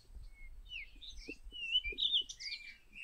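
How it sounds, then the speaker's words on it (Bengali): Several birds call and chirp in a quiet forest eco-park, with short bright tweets and trills at moderate distance and no voices. "পাখির ডাক"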